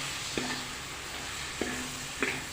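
Chicken sizzles steadily in a pan for a Kerala-style chicken roast, a continuous frying hiss broken by three distinct scrapes of a spoon stirring the pieces.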